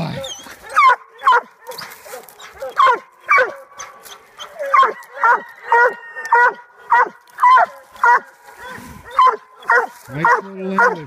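A 16-month-old English bluetick hound barks loudly and repeatedly while treeing, in a steady rhythm, close by, with yelps and bawling howls mixed in.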